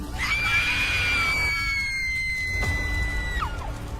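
A burning girl in a Hindi horror drama lets out one long, shrill, sustained scream lasting about three seconds, loud and close over a steady background rumble before it cuts off abruptly.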